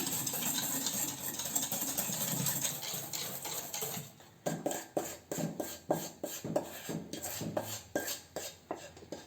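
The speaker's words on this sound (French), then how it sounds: "on va mélanger le sucre avec les œufs" Sugar and eggs whisked together for a chocolate mousse, starting with a dense continuous whirring swish, then breaking into steady rhythmic beats of the whisk against the bowl, close and moderately loud.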